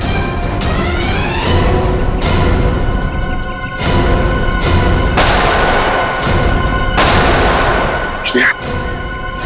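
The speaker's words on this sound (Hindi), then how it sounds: "वहां से चल रही है गोलियां।" Gunfire in a shootout rattles out in loud, sharp bursts of shots and heavy booming reports, repeated volleys over several seconds with crashing echoes, dense and close.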